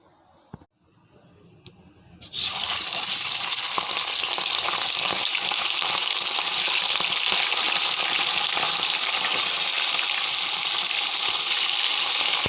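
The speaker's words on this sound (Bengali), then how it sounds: "মাছগুলো কিন্তু খুব ফাটে দেখো যেন আমি কী করে একটু ঢাকা দিয়ে নিয়েছি খুব ফাটছে মাছগুলো" Fish frying in very hot oil bursts into a loud, dense sizzle after a quiet start with a few clicks, then spatters and crackles continuously and up close.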